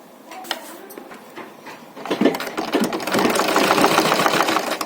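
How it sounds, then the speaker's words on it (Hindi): A sewing machine stitches elastic onto a child's suit, first in short bursts of whirring and knocking, then in a steady, louder run of rapid clattering for the last few seconds. "तो सिलाई मारने लग रही हूँ"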